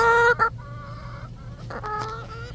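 Backyard chickens cluck close by in a few short harmonic bursts, with a steady low hum running underneath.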